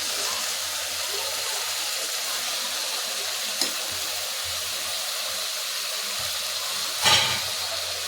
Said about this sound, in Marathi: आता यात आपण चिरलेली भोपळ्याच्या पानाची भाजी टाकूया.